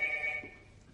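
A telephone rings at the Plouguirec gendarmerie station, a bright electronic trill that holds for a moment and then fades out.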